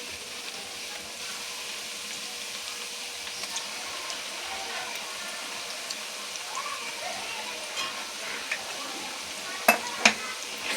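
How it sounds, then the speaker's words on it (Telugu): Chicken fries with ginger garlic paste in a pan for a pickle, giving a steady soft sizzle over about eleven seconds with a few light stirring clinks and taps near the end. "ఇప్పుడు ఇది కొంచెం బాగా వేపుకోవాలండి"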